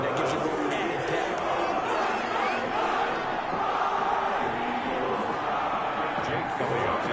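Dense, steady home-crowd roar and chatter in a PS4 American football game, a constant wash of massed cheering and murmuring voices with no clear breaks.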